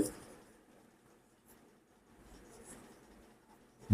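Chalk or marker writing on a board during a Bengali class 9-10 mensuration math lesson, quiet scratchy strokes running steadily with brief pauses, fairly faint and alone.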